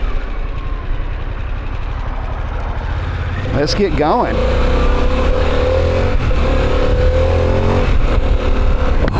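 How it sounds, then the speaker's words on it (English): A Harley-Davidson Pan America motorcycle engine idles with a throaty rumble, then revs up and keeps growling steadily while someone briefly speaks over it. "Love the sound of this engine already, guys. It's got a nice throaty growl to it"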